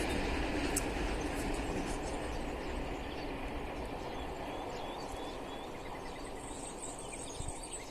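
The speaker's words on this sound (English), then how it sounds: "So there's our train. Oh, it's a freight train." A freight train rolls past in rural central Portugal, a steady broadband rumble and rattle of wagons holding at a fairly constant level for the whole stretch, with faint birdsong above it.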